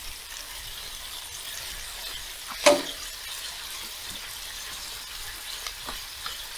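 Egg roll in a bowl, cabbage coleslaw mix with juices, is stirred on a hot Blackstone griddle outdoors, giving a soft steady sizzle with one sharp scrape or clank of a utensil and light scraping later.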